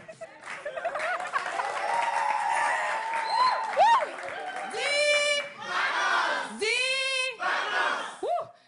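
A crowd at a live music show cheers and shouts, with loud whoops and bursts of applause rising and falling throughout.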